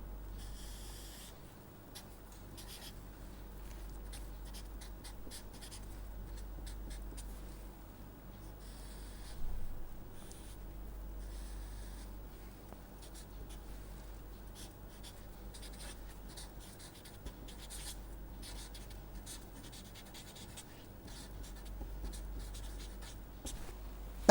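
A pen scratches across paper in soft, intermittent strokes while drawing a filter response graph, quiet and close over a steady low hum.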